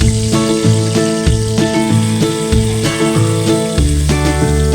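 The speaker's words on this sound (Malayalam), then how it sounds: "ഞാൻ കുറച്ച് നെയ്യിൽ ആദ്യം കുറച്ച് സവാള വറുത്ത് കോരിയെടുക്കുവാണ്." Chopped onions fry loudly in hot ghee, a dense close sizzle with a repeating rhythmic clatter of stirring or mechanical noise running throughout.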